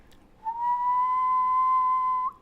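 A person whistles a single clean, steady tone into an Arduino microphone, one sustained note of about two seconds, close and clear with nothing else audible.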